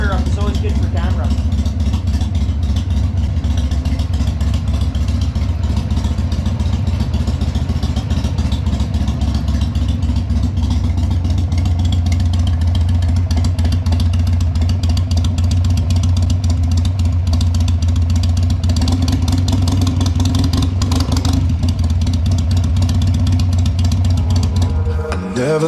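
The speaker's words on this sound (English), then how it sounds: "hearing an engine fire up is always good for camera" Motorcycle engine running steadily at idle during winterizing prep, a continuous low, throbbing rumble with mechanical clatter that holds even for the full duration and cuts off abruptly at the end.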